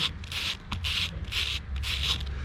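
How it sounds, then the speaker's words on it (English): Hands rub the rough, sandpapery leaves of a sandpaper fig outdoors, making four close, rhythmic rasping strokes in quick succession with short gaps between them. "Now these lovely leaves on the sandpaper fig, they're quite bright and green, but if you feel them,"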